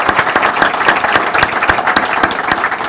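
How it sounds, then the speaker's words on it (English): Audience applause at a bookstore event at Collected Works, steady dense clapping from a seated crowd throughout, fairly close and loud with no talk over it. "Yeah, round of applause for"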